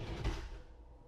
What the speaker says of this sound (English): A drawer right here that open and close.